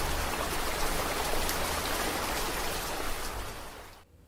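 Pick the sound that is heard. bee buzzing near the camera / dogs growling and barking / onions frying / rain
rain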